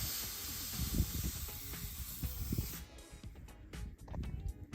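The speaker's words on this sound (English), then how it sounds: "Shoot a little refrigerant in there. Just to clean the hose out." Refrigerant sprayed through an A/C hose on a 2016 Kenworth T680 truck with a Cummins ISX 15, a steady broadband hiss for about three seconds that then cuts off, leaving scattered clicks and handling noises.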